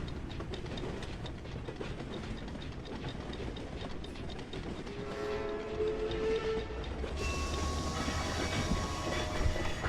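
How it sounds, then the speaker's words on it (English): A train rolls steadily along rails in the Poppy Playtime Chapter 4 video game, a continuous rumbling clatter that grows louder and brighter toward the end, with no talking. "Being kidnapped by a train."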